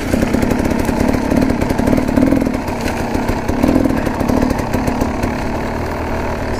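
A KTM 300 enduro motorcycle engine buzzes close by on a steep, fern-covered downhill descent, running in uneven surging pulses with nobody talking.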